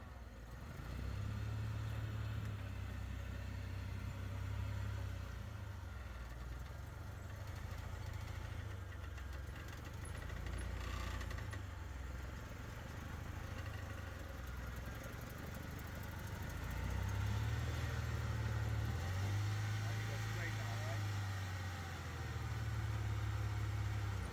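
A vintage Jeep on a sandy trail idles and pulls around at low revs, a steady mid-pitched engine drone that swells and eases as it circles back toward an obstacle, fairly close.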